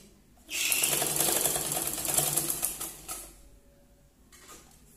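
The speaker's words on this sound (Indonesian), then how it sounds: "Jadi kita jahit bagian bawahnya terlebih dahulu." A sewing machine runs steadily for about three seconds, stitching along the flat bottom edge of a welt pocket, then slows and stops, leaving near silence with a faint tail.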